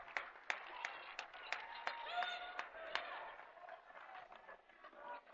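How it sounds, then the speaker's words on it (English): A basketball crowd applauds a departing senior in his final regular-season game. The clapping is fairly faint and distant and carries a few sharp claps, with some crowd murmur underneath. "Jason will get a rousing round of applause there in what will be his final game"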